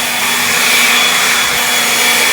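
A leaf blower roars steadily and loudly up close as it clears grass clippings from a yard, a continuous high-pitched engine whine with airy rush and no talk.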